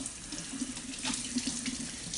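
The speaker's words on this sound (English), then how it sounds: "Now what you're going to do is you're going to run it under water." Tap water runs steadily into a sink while an artichoke is rinsed under it, a close, continuous splashing rush with slight fluctuations as the stream hits the vegetable.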